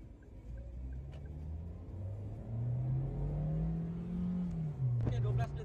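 A Daihatsu Terios R Deluxe with automatic transmission accelerates hard toward 100 km/h, its engine droning and rising in pitch, easing with a shift, then climbing again, heard from inside the cabin under a low road rumble with faint talk.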